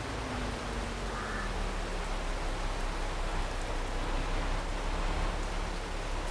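Steady broadband rain hiss from the Farming Simulator 22 game, constant and even throughout with no talk, a faint low tone drifting early on.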